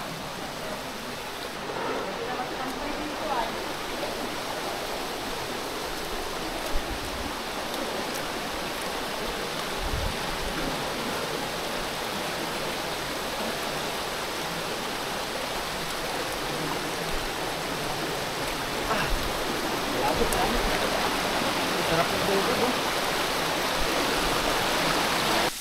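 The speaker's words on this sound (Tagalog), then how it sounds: "Lakas ng tubig oh." Strong river current rushing steadily over rocks at a clear-water stream, a continuous broadband wash that stays loud and even throughout, with faint talk barely surfacing beneath it.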